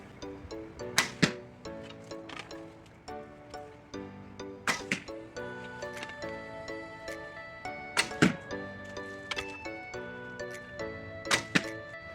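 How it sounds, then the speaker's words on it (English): Arrows are shot from a recurve bow in a series of sharp, twanging releases and thuds, spaced a few seconds apart with ringing resonance between them. "That way you can just set it on, draw it, and fire."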